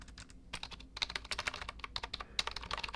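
Fingers type quickly on a computer keyboard fitted with round, laptop-style keys. The keys give soft, dense, close clicks in a continuous, irregular patter.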